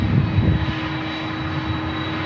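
A Copa Airlines airliner at San Diego International Airport gives a steady, close engine roar that holds at an even level the whole time, with no voices over it.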